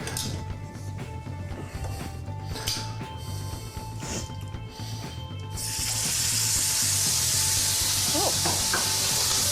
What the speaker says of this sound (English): Get that searing away.